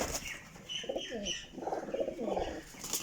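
Pigeons from a flock of 29 birds kept for sale coo in soft, repeated low bursts close by, with faint chirps and a brief rustle that may be wings, and no talk over them.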